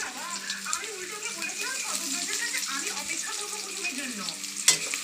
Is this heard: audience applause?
no